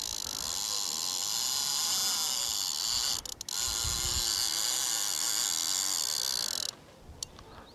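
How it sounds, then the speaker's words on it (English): A Shimano fishing reel pays out line under a hooked carp during a coarse fishing fight, giving a loud, steady buzzing ratchet whir that runs almost nonstop, broken by a couple of brief pauses. "Love the sound of the Shimano going out."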